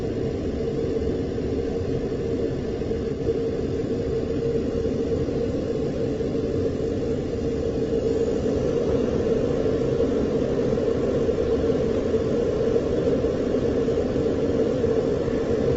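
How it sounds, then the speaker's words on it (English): A jet aircraft flying at about 80,000 feet gives a steady, continuous broadband roar with a low rumble and no break, heard alone for the whole stretch. "Here's the original jet again for another couple seconds."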